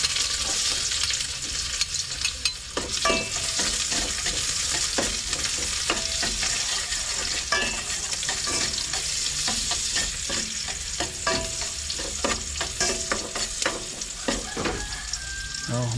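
Onions being stir-fried in a pan after garlic, a loud continuous sizzle broken by frequent rhythmic scraping and clacking of a spatula against the pan throughout.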